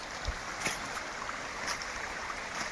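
Magod Falls in a forest, a faint, steady wash of rushing water with broadband hiss and a few soft knocks, distant and continuous with no voices.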